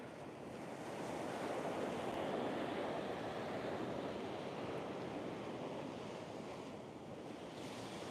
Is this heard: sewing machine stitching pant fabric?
no